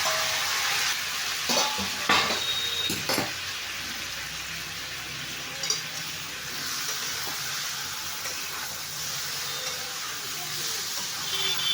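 Boiled vegetables go into spiced oil in a pan for Bengali fish-head chorchori, giving a steady broadband sizzle throughout, with a few sharp stirring clicks and scrapes in the first few seconds and no talking.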